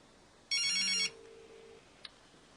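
A phone rings once on an outgoing call: a short, bright electronic trill of about half a second, then a fainter steady tone and a small click, with no talking.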